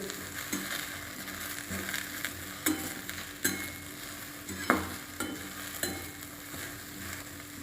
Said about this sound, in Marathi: एक चमचा मीठ टाकून घेत आता आपण हे चांगलं असं मिक्स करून घेऊ